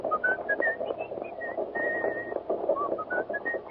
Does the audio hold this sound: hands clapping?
no